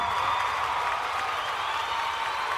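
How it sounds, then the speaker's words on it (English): Digitally simulated crowd noise fills the space with a continuous wash of applause and cheering, steady and fairly loud throughout. "who knew that all of the fake people in a digital crowd noise simulation could be so dang annoying"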